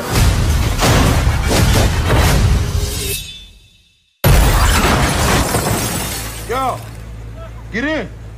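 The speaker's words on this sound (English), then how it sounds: "You smashed the car to a restaurant!" A car crashing into a restaurant, glass shattering in a loud, dense burst that cuts off abruptly, followed by a hum and a few rising whooshes, with voices talking around it.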